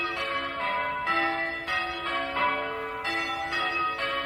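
Church bells at Holy Cross peal continuously, several bells striking in overlapping rhythmic rounds, loud and resonant with no talk.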